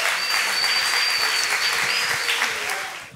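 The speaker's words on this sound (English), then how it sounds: "Big round of applause for Mr." Sustained applause from an audience at a variety show anniversary event in Austin, a dense steady wash of clapping that holds strong before thinning out at the end.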